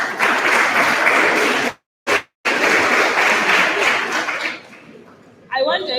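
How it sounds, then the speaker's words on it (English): Audience applause for a panelist at a legal discussion forum, broad and steady, cut by a brief gap, then fading to a lighter patter before a voice comes in at the end. "a round of applause for Mr."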